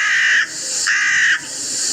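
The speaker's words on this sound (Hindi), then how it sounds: "गुर्राबुन कौवा" Two harsh, drawn-out caws from a crow, each a loud, raspy call followed by a short pause, sounding close and standing alone without talk.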